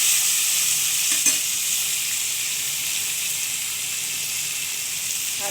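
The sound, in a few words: stirring and frying pumpkin with black cumin and green chilies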